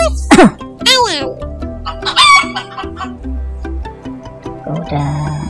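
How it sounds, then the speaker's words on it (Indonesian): A rooster crows loudly with rising, strained calls, mixed with chicken clucking, all close and clear while someone talks in between. "Ayam."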